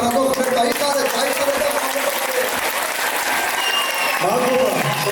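A theatre hall audience applauds steadily, a broad, continuous wash of clapping from many hands that holds at an even level, with a voice speaking over it.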